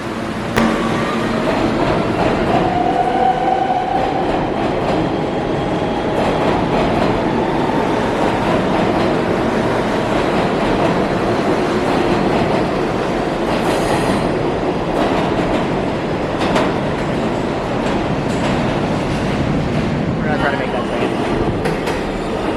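A New York MTA subway train rumbles steadily along the track through a curve, with continuous wheel noise, faint rhythmic clatter and a brief high squeal, loud and close throughout.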